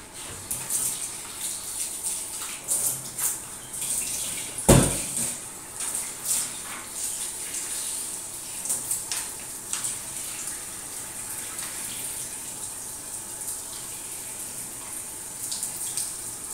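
Kitchen tap water runs steadily over chicken drumsticks being rinsed in a sink, a continuous close splashing stream with one sharp knock partway through.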